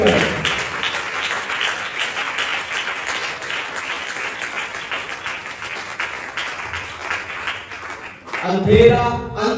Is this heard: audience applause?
yes